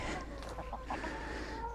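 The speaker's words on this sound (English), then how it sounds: "I'm running 2 runs of chooks, just different ages" Backyard chickens in a coop housed in a railway carriage cluck in short, close bursts over a steady background hum.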